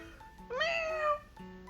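A single cat meows once, a rising then falling drawn-out cry lasting about half a second, close and clear against quiet background tones.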